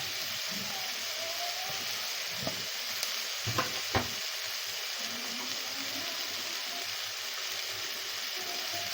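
Okra thokku sizzles and fries in a pan, a steady bright crackle broken by a few sharp clinks and scrapes of a spoon stirring, fairly quiet and with no talking.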